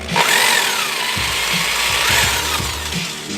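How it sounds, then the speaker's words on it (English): A power drill whirs steadily, turning counterclockwise as it bores out a stuck part on a car, close and continuous for a few seconds with a rough grinding edge. "So this is drilling out the shit."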